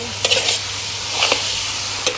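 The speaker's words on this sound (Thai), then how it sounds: "เริ่มผัดกระทะที่สองแล้วเพราะกระทะหนึ่งไม่พอ" Steady sizzling of chicken krapow frying in a hot wok, with a few sharp scraping stirs of a spatula against the metal, no talking.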